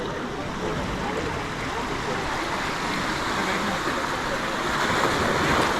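Sea waves roll onto the Ratnagiri shore on the Konkan coast below a temple, a loud, continuous wash of surf mixed with wind buffeting the microphone.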